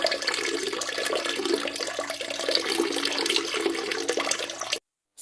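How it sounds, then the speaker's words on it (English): Peeing-in-the-toilet sound effect: a steady hissing, splashing stream of liquid into water, even and close, running for several seconds before stopping abruptly. "I'm going to preview the peeing sound effect from Paulina-chan"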